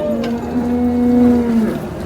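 A cow at the Modnimb cattle market gives one long, low, steady moo lasting about a second and a half, close by over a murmur of market noise.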